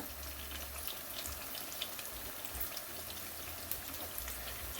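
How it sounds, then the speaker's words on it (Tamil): Fennel seeds and curry leaves sautéing in hot oil for a Sri Lankan dried prawn sambal, giving a steady close crackling sizzle with scattered pops throughout, no voices. "எல்லாத்தையும் போட்டு ஒருக்கா வதக்கி விடுறோம்"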